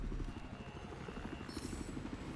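A scout helicopter in Battlefield 4 whirs with a steady low rotor chop throughout, loud and close, with a brief hiss of higher noise midway.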